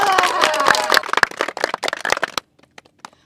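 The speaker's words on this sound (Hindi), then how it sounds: "तो इनके लिए एक बार जोरदार तालियां हो जाए।" A crowd claps for a team arriving at an outdoor sports event. There is loud mixed noise with voices at first, then scattered claps that thin out and fade.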